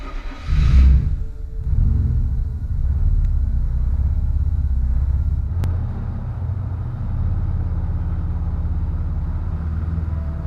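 A 1989 Mazda 929 shown at a hot rod car show gives a steady, close engine rumble lasting throughout, with a louder swell near the start and then a constant low drone, no talking.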